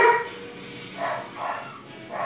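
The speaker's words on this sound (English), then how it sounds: "my dogs are barking" A dog barks a few times in the distance, faint and muffled, spaced about half a second apart over a quiet background.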